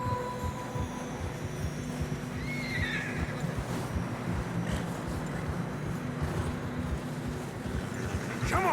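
Horses whinny and neigh while struggling through deep fresh snow in Red Dead Redemption 2, with a continuous low rumble of hooves and movement underneath and a higher neigh near the end.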